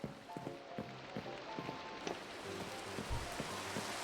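Steady rain hisses softly throughout, faint and even, in a Minecraft survival world during a rainstorm, under bits of game music tones.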